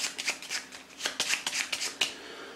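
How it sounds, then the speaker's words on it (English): Plot cards for the Android board game are shuffled by hand in quick bursts of crisp riffling and snapping card noise, close and fairly loud, with no talking. "So I'm just going to shuffle these up and deal them out"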